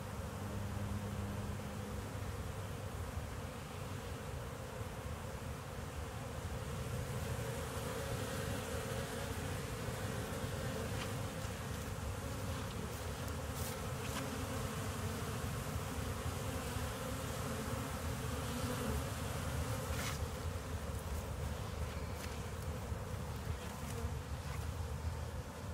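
Honey bees buzz around their hives on the first day of winter: a dense, continuous outdoor drone of many insects, steady throughout with occasional nearer passes.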